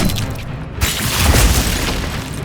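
Glacius ice spell effect in Hogwarts Legacy, a loud booming burst with crackling, shattering texture that sustains dense and heavy for a couple of seconds.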